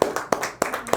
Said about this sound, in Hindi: इसके लिए ताली बजा दीजिए।